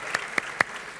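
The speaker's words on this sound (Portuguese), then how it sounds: "Vamos dar uma forte salva de palmas ao Senhor." Congregation in a church applauding, a steady patter of many hands with a few sharp individual claps ringing out above the crowd.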